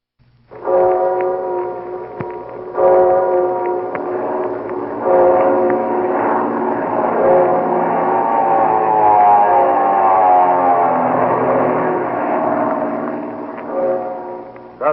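A 1940 radio show plays an airplane sound effect, a loud sustained droning hum with layered steady tones and a gradually shifting pitch that runs for about fourteen seconds before cutting off.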